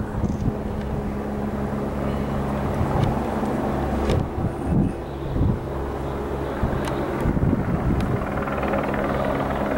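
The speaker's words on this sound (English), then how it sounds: "The helicopter. Oh, it's going over there." A helicopter passes over an Alaska port setting, a steady low engine drone with rotor pulsing that stays continuous and fairly loud throughout, mixed with wind and other vehicle rumble.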